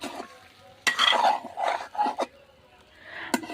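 Fried potatoes and chicken being sautéed together in a pan for chicken curry: close scraping and stirring strokes in uneven bursts, with clanks of the spoon against the pan over a faint sizzle.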